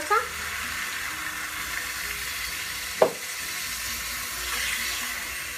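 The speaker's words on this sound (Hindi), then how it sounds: "एक मिनट भून लेंगे इसको।" Potatoes frying in spiced masala oil in a home kitchen, a steady soft sizzle with a single clattering stir or clink partway through, fairly close and continuous.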